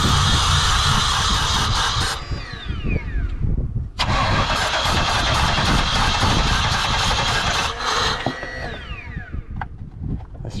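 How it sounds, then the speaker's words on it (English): An LT1 V8 in a Pontiac WS6 Ram Air F-body cranks on its starter with starting fluid sprayed into the intake, loud and close, in three long bursts of steady whirring separated by brief pauses, without catching to a run. "Got my helper here to help me with cranking the engine while I do this."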